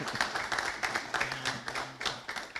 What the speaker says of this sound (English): So you give him a round of applause.